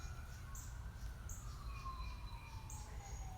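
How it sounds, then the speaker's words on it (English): Fire truck siren in the distance, a faint wailing tone rising and falling over low background rumble, with a few bird chirps. "That sounds like a fire truck."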